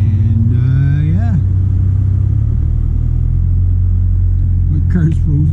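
A car engine, its wheels frozen to the ground in cold weather, hums with a steady low rumble and briefly revs upward near the start before settling back to a constant idle drone.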